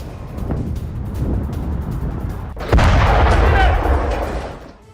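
Explosion from an Israeli strike on Beirut: a sudden heavy boom bursts out midway over a rumbling, noisy urban backdrop, then a dense roar of debris and fire lingers and fades, with indistinct voices in the background.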